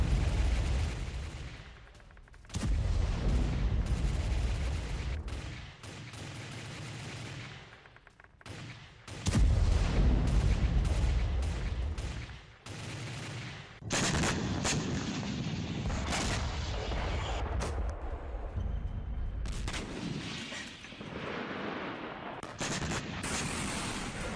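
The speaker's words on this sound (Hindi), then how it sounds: "एक तरफ आप देखिए कैसे गाजा में बमबारी की इजराइल ने" Israeli bombardment and gunfire in Gaza in news footage: heavy booms and rattling bursts come in separate loud stretches broken by brief quieter gaps, with no voices.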